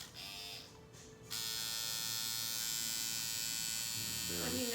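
A tattoo gun started with a foot pedal buzzes steadily and loudly after a brief hum, with a voice briefly speaking near the end.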